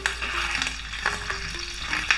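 Pork curry simmers on low heat in a pot, giving a continuous soft sizzle with light stirring and scraping noises throughout and no voices.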